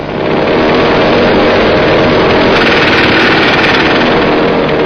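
Heavy rock-drilling equipment bores a 12-metre-high, 15-metre-wide tunnel through hard rock for the El Cadillal dam, a loud, continuous, dense hammering roar that fills the whole stretch.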